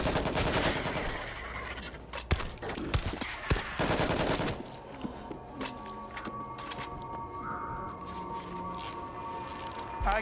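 A heavy weapon fires in World War Z, a dense burst of rapid gunfire for the first few seconds followed by scattered single shots over a tense game backdrop.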